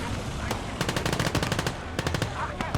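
Rapid machine-gun bursts and scattered gunshots crackle over a rumbling background in a WWII video game battle during a German armored offensive, loud and close.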